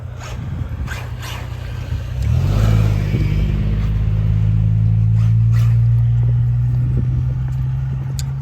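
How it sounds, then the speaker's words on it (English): A car passes nearby on a street, its low engine rumble swelling midway and holding steady as it rolls slowly by, with no talking. "let the car go by real quick for a little bit"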